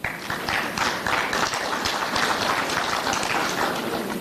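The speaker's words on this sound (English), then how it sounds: "You should applaud that even more." Steady applause from an audience at an ANC Lekgotla opening address, a sustained wash of clapping that holds at an even level throughout.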